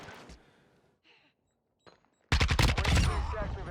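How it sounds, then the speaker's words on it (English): Gunfire in Modern Warfare 2, a dense burst of automatic shots erupting loudly after a few quiet seconds and faint earlier clicks, sustained to the end. "Are you shooting at me?"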